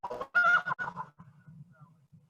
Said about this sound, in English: Those chickens are flying 200 feet plus up a hill.